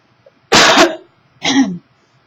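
Two harsh, close coughs about a second apart, the first louder and longer, in an otherwise quiet room.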